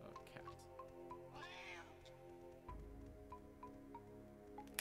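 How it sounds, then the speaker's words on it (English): A cat meows several times at moderate distance, layered over steady in-game music and sound effects from the Banjo-Tooie video game. "I hear a cat."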